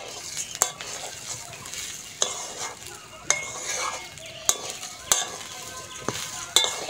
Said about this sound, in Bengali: চালটা ভালো করে ভেজে নিয়েছি।